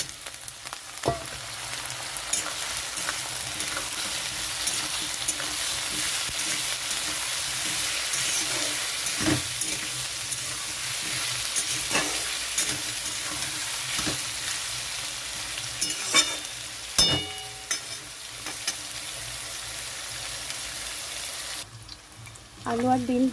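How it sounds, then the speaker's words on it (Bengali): Cut potatoes sizzling in a hot pan, a continuous close frying crackle broken by repeated sharp scrapes and knocks as they are stirred. "এখানে দিয়ে দিচ্ছি কেটে রাখা আলু"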